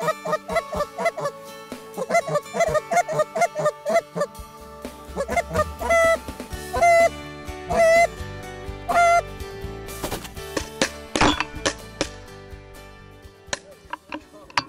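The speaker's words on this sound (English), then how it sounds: "these are some big honkers" A flock of geese honks repeatedly during a goose hunt in Alberta, the calls loud and near, overlapping in busy bursts, with occasional voices in the background.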